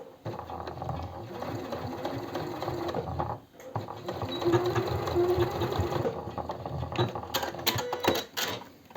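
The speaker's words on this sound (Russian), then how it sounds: "Здесь можно развернуться и дать строчку по верху." Sewing machine stitching a line along the top of a blouse made of eyelet fabric: a steady, close, rapid mechanical whir with a brief pause, then stitching resumes with clicks, while someone talks faintly underneath.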